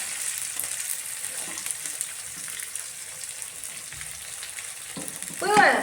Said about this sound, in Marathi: तर ही टाकते कांदा